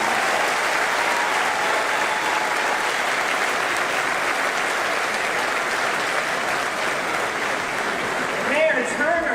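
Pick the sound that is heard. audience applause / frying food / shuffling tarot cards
audience applause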